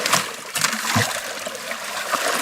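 Water is splashed and poured over a gold sluice box outdoors, giving a continuous soft trickle with a few small splashes, fairly quiet and close.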